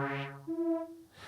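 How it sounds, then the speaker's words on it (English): Wavetable synth tone with no modulation, a couple of plain steady notes at low level, one stepping up and holding evenly before fading, with no voices. "Sounds straight without any modulation,"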